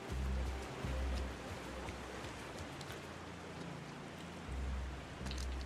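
Waterfall in the game Alan Wake 2, a constant hissing rush of falling water with a low rumbling pulse that swells and fades, no voices.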